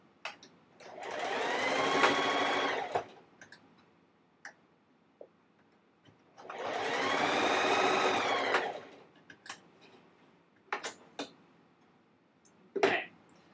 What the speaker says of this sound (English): And we're going to sew that edge.